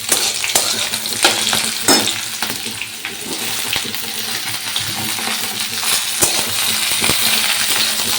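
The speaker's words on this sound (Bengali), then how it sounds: "আর এখন দেখো আমি ভাজা করছি হচ্ছে ব্রোকলি" Broccoli and potatoes frying in a pan, a loud close sizzle with frequent clattering scrapes and taps of a spatula stirring the pieces, no talking.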